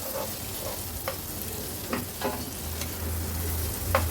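Prawns fry in a little oil over a low to medium flame in an Agri Koli style kitchen, giving a soft, steady sizzle with occasional brief crackles and light stirring noises at close range.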